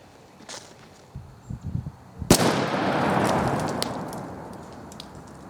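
A single loud shotgun blast firing a Federal Premium TSS number 9 turkey load in a backyard, sharp and close, followed by a long rolling echo that fades over several seconds, with a few small handling clicks before the shot.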